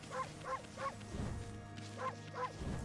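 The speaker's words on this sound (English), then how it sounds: "This is the sound of the dogs." Dogs in the video game Okami bark in quick stylized yaps, a run of three followed by a pause and then two more, fairly faint over a soft musical background.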